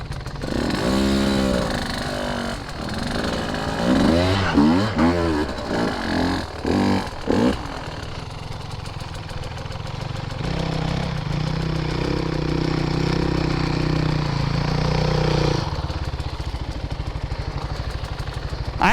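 A Husqvarna TE150 two-stroke dirt bike engine revs hard in rapid bursts, then holds a loud, raspy sustained drone up close, with no talking.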